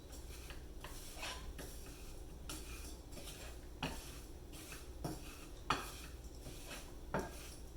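Wineberries and sugar stirred in a pot over low heat for a simple jam, with a steady low hiss under a series of soft, scattered clinks and scrapes of a spoon against the pot, close by and quiet.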